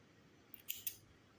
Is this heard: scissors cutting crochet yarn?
yes